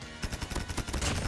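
Rapid bursts of gunfire from the mobile shooter game Call of Duty Mobile, a fast run of loud, closely spaced shots after a brief quiet start.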